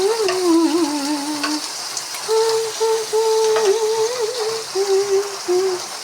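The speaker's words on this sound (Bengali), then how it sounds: "তেল গরম হওয়ার পরে পেঁয়াজ দিয়ে দিলাম কড়াতে।" Onions sizzling in hot oil in a wok, with a steady close crackle running under a wavering tonal melody throughout.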